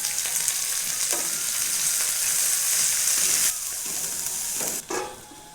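Potatoes and fenugreek leaves cooking in an oiled pan for methi kadhi give a loud, steady close sizzle, with a few stirring knocks and a sudden drop in the hiss near the end.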